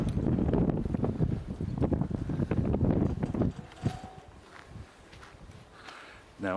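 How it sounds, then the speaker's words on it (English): Strong wind gusting through the ancient streets of Pompeii, buffeting the microphone with rough, loud rumbles that ease into a quieter, breezy stretch, with footsteps and a voice talking over it. "It's incredibly windy."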